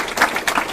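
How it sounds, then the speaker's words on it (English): Brief burst of audience applause at a dessert fundraiser for a recovery center, a dense wash of many hands clapping at moderate volume with no voices. "let's give yourself a round of applause"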